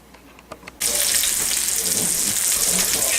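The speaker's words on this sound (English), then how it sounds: "Alright, so we got our water boiling." Water rolling at a boil in a pot on a stove, readied for cooking pasta in a bacon kitchen setting; a steady, dense hiss that starts abruptly and continues loud and close without talk.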